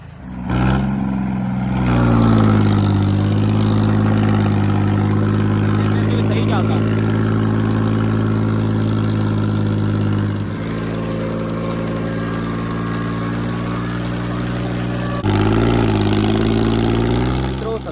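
A 265 (35 HP) tractor engine with no modification labors loudly while pulling a 13-tine cultivator, a steady heavy rumble that dips briefly near the middle and surges again toward the end, continuous and close.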